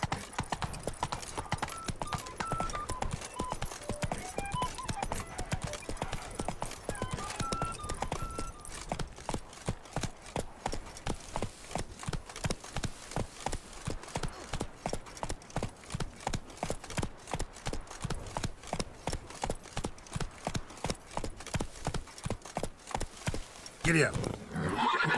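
Roach the horse gallops in The Witcher 3: Blood and Wine, a fast, steady clip-clop of hooves that runs the whole time, with a busier mix of game sound and speech early on.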